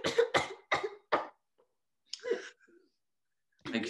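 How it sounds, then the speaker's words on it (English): A person gives a racking cough, four harsh hacking bursts in quick succession, then a fainter strained cough after a pause and another starting at the end, close and alone in a quiet room. "I have this racking cough."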